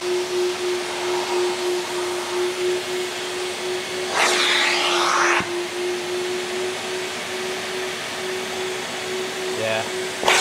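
A vacuum cleaner drones steadily as it sucks up dust while a BMW is being detailed, with a louder rushing burst as the nozzle pulls debris and a few brief knocks near the end.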